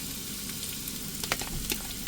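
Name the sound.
onion and garlic frying in hot oil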